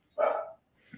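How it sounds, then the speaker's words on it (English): A domestic dog gives one fairly loud bark nearby, followed by a short silence and then faint indistinct noise. "And I apologize for the barking dog."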